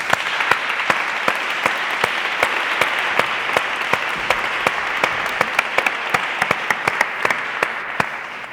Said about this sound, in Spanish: Por favor, un aplauso a Sara, que viene con nosotros.